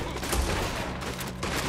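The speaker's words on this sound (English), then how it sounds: "All right, more shooting." Gunshots in the Red Dead Redemption 2 video game, heard as a dense volley of overlapping booming shots with a heavy low thump, filling a short loud stretch of battle noise.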